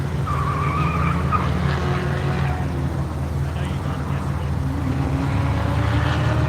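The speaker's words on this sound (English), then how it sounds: "With the amount of fun tire noise coming from the Acura" An Acura race car's tires squeal on track during the Tire Rack One Lap of America at NCM, a loud, sustained squeal and skid over a droning engine, with a voice faintly underneath.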